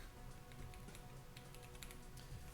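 Rapid clicking of a really noisy computer keyboard, a quiet, steady patter of keystrokes running the whole time with no talking.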